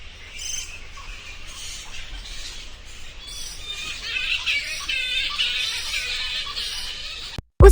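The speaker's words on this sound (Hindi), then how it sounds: "चमगादड़ चहकते हुए उसके सिर के ऊपर से उड़ने लगे" A cartoon flock of bats chirps in a dense, high, steady twitter that builds toward the middle and holds until an abrupt cut near the end, with no talking.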